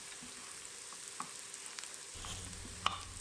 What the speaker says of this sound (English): To my sauteing onion